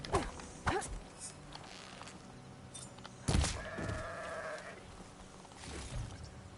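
Goat in the Horizon Forbidden West video game bleating in short calls amid game ambience, with a louder bleat near the middle and faint footsteps.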